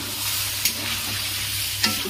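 Potatoes and spices stir-fry in a pan with a splash of water added, producing a dense, close sizzle with a couple of sharp spatula clacks.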